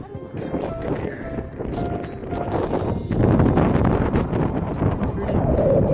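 Gusty wind buffeting the microphone in a loud, rumbling roar that grows stronger halfway through, with faint voices beneath, up high near Kinglet Lake.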